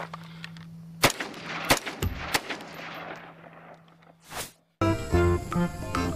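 A toy sniper rifle fires several sharp snapping shots, spaced unevenly and fairly close, followed by a whooshing burst and a toy's electronic sound effect.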